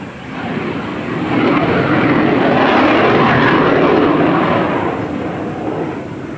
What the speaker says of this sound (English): I'm sorry, that's the airplane